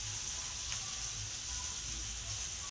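Food fries in a pan at a roadside eatery, where crispy KFC-style chicken is being made, a faint, steady sizzle with a low hum beneath it, continuous and with no voices.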